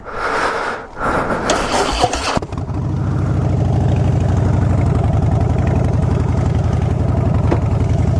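A car engine with its exhaust baffles removed cranks and fires after some rustling handling noise, then settles into a loud, deep, steady idle rumble that fills the rest, close by with no talking.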